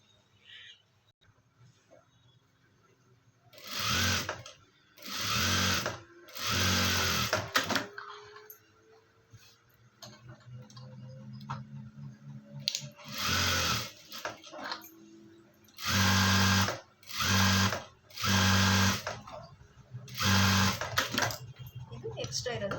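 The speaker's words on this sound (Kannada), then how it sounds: "ಸೇಮ್ ಇದೇ ರೀತಿ ಇದನ್ನು ಸ್ಟಿಚ್ ಮಾಡ್ಕೊಳ್ಳೋಣ" Electric sewing machine stitching fabric in several short bursts of two to three seconds each, loud and close, separated by gaps where a person talks quietly.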